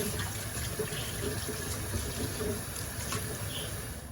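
Potatoes are rinsed under a running kitchen tap, making a steady, close rush of water with light splashing throughout and no talking.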